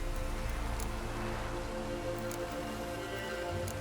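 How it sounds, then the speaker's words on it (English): Rain in The Witcher 3: Wild Hunt falls as a steady, dense patter and hiss, soft but continuous, with a few faint brighter drips and a low ambient drone beneath and no speech. "Buffos have brought us rain."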